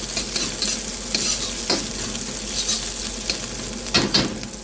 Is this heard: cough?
no